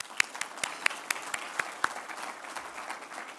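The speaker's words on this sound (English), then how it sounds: "So a round of applause for that." Applause at a 2024 justice breakfast event, heard as a modest, fairly distant patter of clapping with a few sharper individual claps standing out, fading toward the end.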